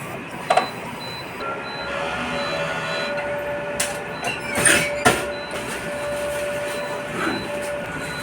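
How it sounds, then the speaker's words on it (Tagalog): A sublimation printer runs a head-clean cycle with a quiet mechanical whir, soft clicks and a thin steady tone, broken by a few short clunks and sliding sounds. "ito po yung sublimation machine po namin dito sa Bohol"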